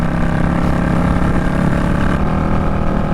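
A motorcycle rides along in a loud, continuous engine roar mixed with wind rush, heard up close from the rider's position with no break in the sound.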